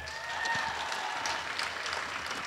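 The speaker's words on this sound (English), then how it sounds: "So can we give them a round of applause?" An audience at a Christian academy's evening talent show applauds sponsors with steady, dense clapping throughout, moderately distant and even in level.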